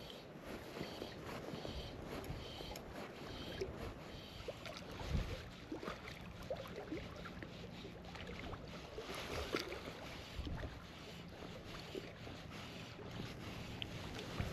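Steady wind over a loch on a damp day, a broad continuous rush with water movement around a small boat, moderately loud and unbroken throughout with occasional gusts.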